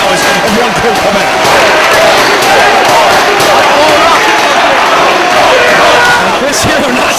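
A wrestling crowd in Detroit cheers and roars continuously at an indoor Ring of Honor event, a dense loud wall of voices with a commentator talking over it.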